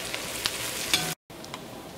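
Curry leaves dropped into hot oil with onions in a pan for a Kerala dum chicken biryani, giving a steady close sizzle with a few sharp crackles and a brief dropout midway.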